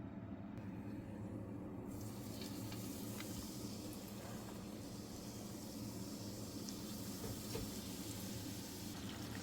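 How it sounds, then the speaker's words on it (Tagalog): Chicken rolls frying in hot oil, a steady dense sizzle and crackle that holds unbroken and fairly loud from start to finish, with no talking. "Ito na, naisa lang ko na siya sa prituhan."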